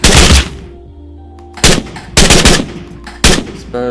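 Gunfire in a homemade Fortnite-style video game: loud bursts of rapid automatic shots, four separate volleys with short quiet gaps between them, close and dominant, with no talking.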